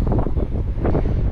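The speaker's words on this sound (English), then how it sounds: "This wind is really starting to pick up" Wind gusts outdoors on a fishing trip, a loud, low, blustery rumble buffeting the microphone continuously for a moment.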